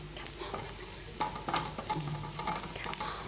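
A spoonful of dried coriander drops into garlic frying in oil in a pan for taqliya, a steady close sizzle with clinking and scraping stirring sounds.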